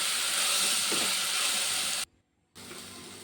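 Ginger garlic paste fries in ghee with a loud, continuous sizzling hiss, cut by a half-second gap of silence before it resumes.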